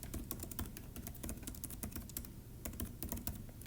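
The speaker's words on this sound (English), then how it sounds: "if I have a hardware keyboard, I'm just going to start typing" Someone types on a hardware computer keyboard nearby, producing quick, uneven bursts of crisp key clicks with short pauses and no talking.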